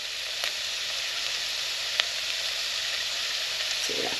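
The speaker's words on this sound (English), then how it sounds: "Now let that fry off just for a couple of seconds" Tomato puree frying in a hot pan for porcini tortilloni soup, giving a steady close sizzle with a few faint pops and clicks over about four seconds, and no one speaking.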